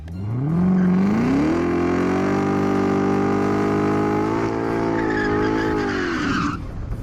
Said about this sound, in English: Everyone loves a good old-fashioned burnout.